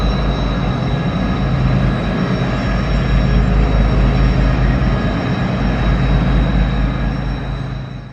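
A long freight train with extra pusher engines working in the middle climbs the Tehachapi Loop in the winter hills of Kern County, California. A loud, steady diesel rumble with a thin high whine holds throughout and eases off near the end.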